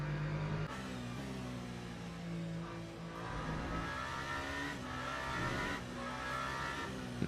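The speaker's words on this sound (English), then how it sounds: "We've got a hypercar coming from behind." A hypercar approaching from behind at Fuji race track during a motorsport race, with engine notes rising and shifting in pitch through upshifts, a continuous high-revving whine layered over other racing cars, moderately loud and without talk.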